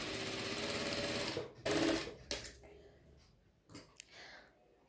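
Sewing machine stitching baby boys' boxer shorts fabric, a steady mechanical whirr at first, then a few short bursts and bumps of handling noise, with quieter stops in between.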